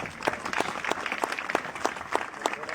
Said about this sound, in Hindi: इनके लिए तो तालियां बजनी चाहिए सभी के लिए